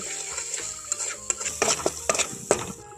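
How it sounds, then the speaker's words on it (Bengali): Spices with ginger and turmeric fry in hot oil, a soft sizzle punctuated by several sharp scraping and clinking stirs of a utensil against the pan, growing busier toward the end. "এখন মশলাটাকে খুব ভালো করে ভেজে নেব"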